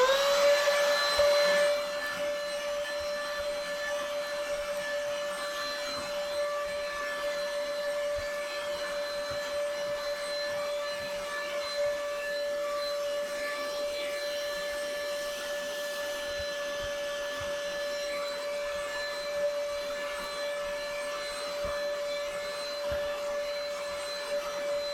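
A Black & Decker cordless vacuum runs steadily while picking up trash, giving a continuous close motor whine with a sustained tonal hum and slight fluctuations as debris is drawn in.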